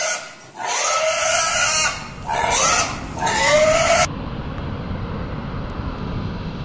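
Sick pigs on a farm give long, strained squeals and grunting cries in overlapping bursts, loud and close. Steady droning noise continues beneath them and persists after the calls stop.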